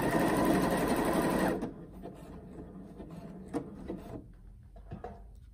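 A Janome 1050DC sewing machine stitches fabric in a loud, steady mechanical whir for about a second and a half, then stops and leaves faint handling clicks and rustles nearby.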